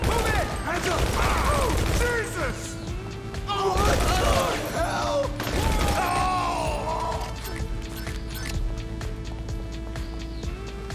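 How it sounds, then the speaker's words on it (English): A GTA Online firefight erupts in bursts of gunfire, crashes and impacts, dense and loud at first and then easing, with shouted game voices over the top and a low musical drone beneath. "Take cover! Ah! Man down! We're receiving fire!"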